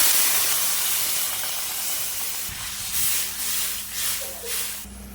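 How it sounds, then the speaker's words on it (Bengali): Water poured onto hot fried spice paste for a katla fish head and yam curry, giving a loud, continuous steamy hiss that swells in a few waves toward the end. "মশলাটা দিয়ে কষিয়ে নিয়েছি, এবার জল দিয়ে দেবো।"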